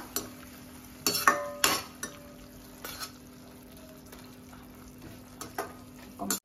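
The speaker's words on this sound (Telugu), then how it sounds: "ఈ మొత్తం ఒకసారి ఫ్రై అవనిద్దాం." Chicken majestic frying in a pan with soy sauce, a soft sizzle under intermittent scraping and clinking strokes of a spoon stirring against the pan, close and fairly quiet, no talking.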